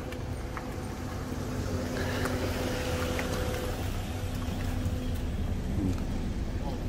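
Steady low rumble of a car engine passing nearby on the road up Jabal Nur near Mecca, continuous and moderately loud with faint background noise.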